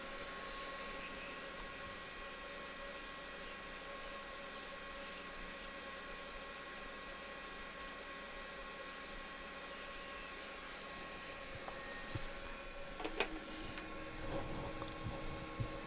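A hot air rework station reheats fluxed solder on a Nintendo DS Lite board during a microsoldering charging repair, giving a faint, steady airy hiss with a few brief clicks near the end.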